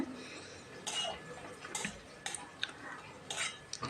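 A pot lid is lifted and radish being cooked into a Bengali chhechki is stirred, producing soft scattered clicks and scraping taps of a utensil against the pot, quiet and close, no talking.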